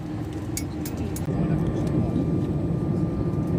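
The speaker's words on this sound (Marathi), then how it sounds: "पहा मंडळी प्लेनना मूव व्हायला lagle" An EasyJet Airbus A319 starts to roll, heard from inside the cabin as a steady, loud engine rumble and hiss with faint indistinct voices in the background.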